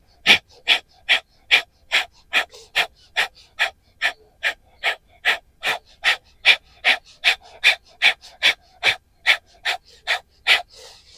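Rapid rhythmic breath-of-fire yoga breathing, about thirty forceful nasal exhales in an even, quick pulse, close and loud with no talking.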